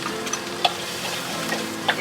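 Garlic frying in about a spoonful of oil in a pan: a soft, steady sizzle with a few sharp clinks of a utensil stirring, fairly quiet and without talk.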